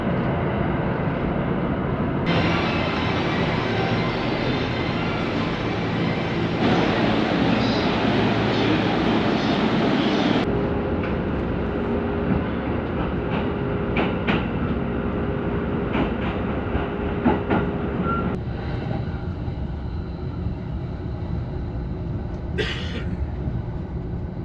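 Ueno-Tokyo Line train on the Tokaido Line through-service to Hiratsuka, running steadily from inside the car with a loud continuous rumble and rail noise that shifts in tone partway through and eases toward the end.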